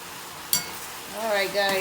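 Beef sears and browns in a pot for a beef soup, a soft steady sizzle with one sharp crackle, while someone talks over the cooking.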